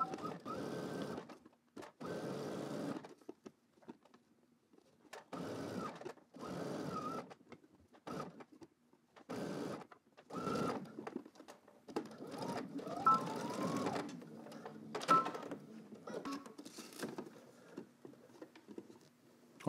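A sewing machine stitches a sleeve seam on a garment in repeated short bursts of rapid mechanical whirring separated by pauses, close and clear, with no talking.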